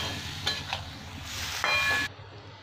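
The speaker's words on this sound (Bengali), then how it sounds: "এবার খালি নাড়াচাড়া করে জলটা শুকিয়ে নেব।" Bottle gourd curry with prawns and Kashmiri chilli powder stirred in a pan to dry off its water, giving a short run of scraping spoon strokes over a soft, steady sizzle.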